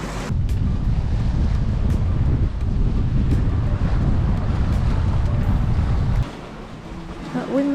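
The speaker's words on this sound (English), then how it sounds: "That wind's gone a little bit more southwesterly than westerly." Wind at sea on a catamaran passage roars steadily against the microphone with a rush of water and waves, then drops sharply near the end, with a voice faintly present.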